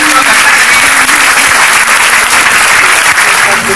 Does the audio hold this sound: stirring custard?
no